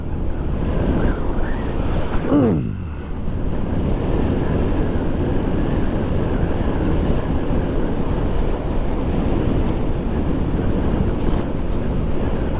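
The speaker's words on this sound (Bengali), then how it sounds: "বাতাসের ঠেলায় সব উড়ে যেতেছে" Strong wind buffets the microphone of a motorcycle riding along an expressway, a loud, constant roar with no break, and a brief whistling sound near the start.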